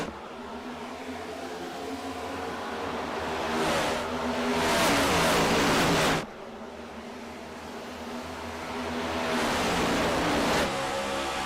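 Race cars at Kansas Speedway in a racing video game pack together on a restart, a loud, sustained engine roar that swells as the field passes close, drops off sharply, then builds again.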